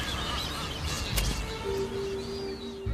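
Booby birds calling at a mating site on a predator-free island, a steady mix of honking, goose-like calls and a long drawn tone over busy outdoor colony noise.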